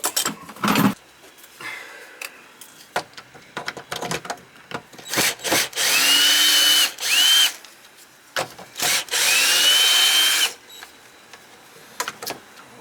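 A power drill loosens screws on an outdoor shower fixture in bursts of high whirring, several short triggers and two longer runs that wind up and down, separated by clicks and handling noises.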